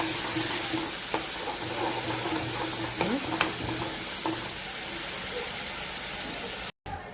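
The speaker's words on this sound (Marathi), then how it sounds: "याच्यामध्ये आता जे आपण वाटण वाटलेलं ते ॲड करूया आणि ह्याला छान तेल सुटेपर्यंत आपल्याला फ्राय करून घ्यायचे आहे।" Ground spice paste frying in hot oil in a pan, a steady close sizzle throughout with occasional light stirring clinks.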